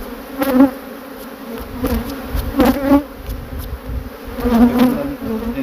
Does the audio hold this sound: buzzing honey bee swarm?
yes